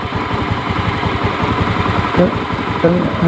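A Honda Beat ESP motorcycle engine settling to idle in a repair shop, a steady low rumbling putter running throughout at close range, with a short brighter tone near the end.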